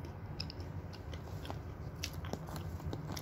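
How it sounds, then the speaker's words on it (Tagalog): Crunchy almonds are chewed close to the mic, quiet but distinct crisp bites and crunches repeating in an uneven rhythm. "Crunchy ka ng almond kaunon. Crunchy ka siyang kaunon."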